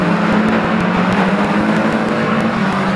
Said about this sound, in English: Atkin comes around the turn, going past Harry.